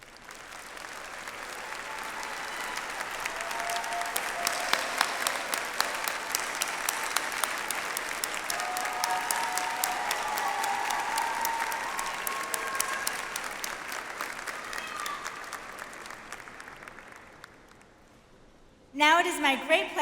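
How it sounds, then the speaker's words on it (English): An audience at the Wharton undergraduate graduation ceremony applauds in a long, sustained round that swells, holds steady, then fades out near the end before a voice briefly begins. "please join me in a round of applause for these deserving individuals."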